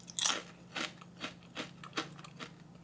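Repeated loud crunching bites of a crisp fried chili snack, about six sharp crunches spaced roughly half a second apart, close up with no talking.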